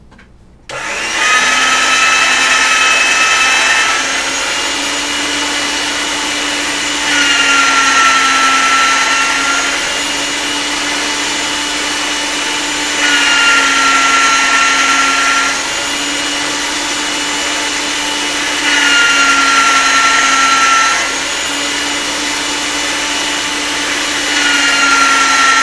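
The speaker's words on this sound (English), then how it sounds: "Flatten it so it would go through the thickest setting on the pasta machine." Polymer clay is fed repeatedly through a motorized pasta machine at its thickest setting, a loud continuous mechanical hum that swells and eases in regular cycles of roughly six seconds.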